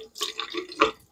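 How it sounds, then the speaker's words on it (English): Water rinsing a bathroom sink drain stopper: a brief splashing, trickling burst with a couple of sharper spatters, close and fairly loud, lasting about a second. "You take this, you rinse it out."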